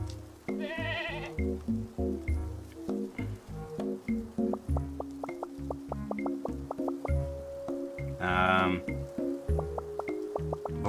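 Goats bleat in the video game Carto, two drawn-out wavering calls rising over bouncy, dripping, squishy game music with plucked tones throughout.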